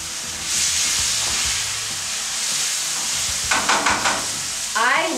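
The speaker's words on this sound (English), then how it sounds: "I'm just making sure that these onions are not burning, moving them around." Chopped onions and garlic sizzle in a hot pan, a steady bright hiss of frying broken by scraping stirs and a few clinks of the utensil against the pan near the end.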